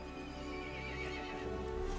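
Horse in the video game Resident Evil Village neighing, a brief quavering whinny over clip-clopping hooves, fairly faint and distant.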